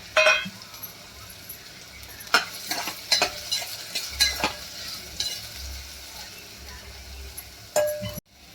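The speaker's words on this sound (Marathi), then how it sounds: "आता कांदा टाकूया। कांदा आणि लसूण चांगलं परतून घेऊया." Chopped onion and garlic stir-fried in a pan while cooking Khandesh-style besan patodya, a close sizzle broken by repeated scraping stirs and spoon clinks against the pan.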